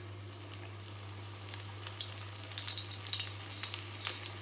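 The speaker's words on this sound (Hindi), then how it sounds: "अब मैं पकौड़े फ्राई करने लगी हूँ।" Spinach pakoras fry in hot oil, a soft hiss that swells into busier bubbling and crackling during the second half over a low steady hum, fairly quiet, with no voices.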